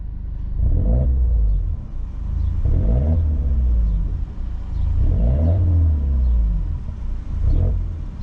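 A Peugeot 208 GTi 200 hp with a full Akrapovič exhaust revs hard three or four times in succession, each burst rising then falling back to a deep, throaty idle rumble, close and loud.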